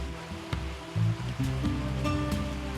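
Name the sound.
water of a fresh mountain stream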